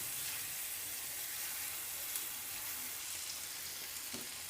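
Onions and chickpeas for chana chaat fry in a pan, a soft, even sizzle like light rain that holds steady throughout, faint and somewhat distant.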